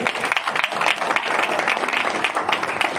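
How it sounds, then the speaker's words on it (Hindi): Applause from a meeting audience for Deepak ji, with dense, steady clapping from many hands and a few faint voices underneath. "दीपक जी के लिए एक बार जोरदार तालियां हो जाए।"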